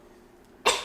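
A single short, sharp sneeze bursts out abruptly near a microphone during a travel podcast recording, loud after a quiet moment with no speech.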